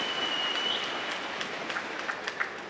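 A badminton crowd at the 2016 China Masters applauding as an injured player gets back up. Steady, moderate applause and clapping from the stands hold throughout, with a few sharper claps toward the end.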